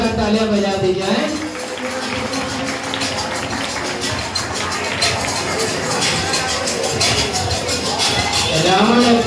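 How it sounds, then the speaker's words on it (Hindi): At a school Ram Navami celebration, a Ram Leela audience applauds loudly for Ravana, a dense sustained clapping that builds and swells over crowd noise, with a voice talking at the start and end. "रावण के लिए जोरदार तालियां बजा दी जाए।"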